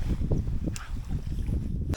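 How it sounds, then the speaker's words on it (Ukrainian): Steady low wind rumble buffeting the microphone outdoors at a cool fishing spot by the water, continuous and fairly loud throughout, with a brief brighter gust near the end. "Вітер це, я не знаю, як там по звуку буде на екшені."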